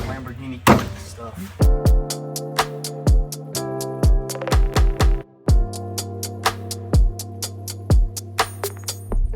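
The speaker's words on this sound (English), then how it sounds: "Big hammer." A big hammer strikes parts of a wrecked Lamborghini Huracan Tecnica in a rapid series of sharp metallic clangs that ring out with lingering tones, loud and close, in uneven bursts.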